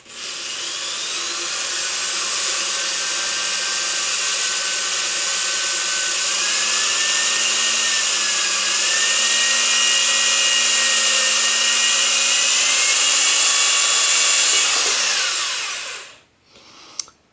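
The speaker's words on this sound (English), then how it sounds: "You can feel it go through the acrylic." A power drill bores through acrylic plexiglass. It gives a loud, continuous high whine with a slowly shifting pitch for about fifteen seconds, then cuts off abruptly, followed by a brief clunk.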